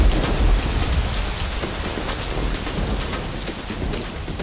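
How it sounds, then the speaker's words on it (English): Simulated rainfall patters down onto two soil samples, one long untilled, in a dense, continuous hiss of drops that is close and fairly loud. "Watch what happens when I simulate rainfall on these two soils."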